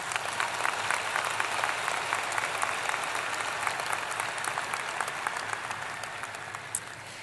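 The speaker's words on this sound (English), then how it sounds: "Let's give all of them a round of our applause." A large crowd at a university spring commencement ceremony applauds, broad sustained clapping filling a big hall at even strength throughout.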